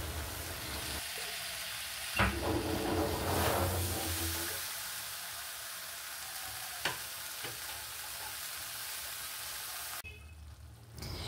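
Turmeric and tomatoes fry with a steady sizzle in a pan for a Bengali okra and mustard dish, broken by a few sharp scrapes and knocks of a stirring spoon; the sizzle drops away near the end.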